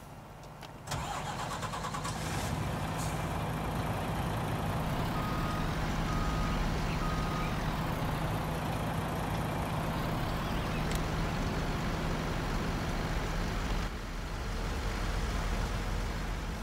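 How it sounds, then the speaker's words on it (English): Truck engine running steadily in Farming Simulator 19, with a starting burst at the outset and a continuous mid-pitched drone, joined by repeated reversing beeps, loud and alone without talk. "Well, I'll see if I can get this truck going."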